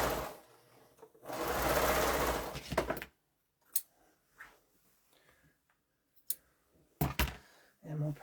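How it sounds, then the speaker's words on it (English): A sewing machine stitches a quilt block seam in one loud, fast whirring burst of about two seconds, then stops, followed by quiet clicks and handling knocks. "And I will sew down that seam."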